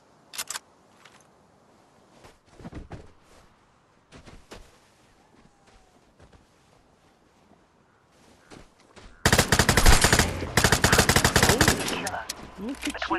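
Automatic gunfire in a first-person shooter game, with sparse scattered shots early on, then a dense, loud burst of rapid continuous fire in the final few seconds, with faint voices in between.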